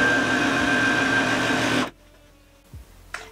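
Scrap fabric pieces being stitched together on a sewing machine, a close, steady motor whir that runs for under two seconds and then stops, followed by a couple of soft clicks.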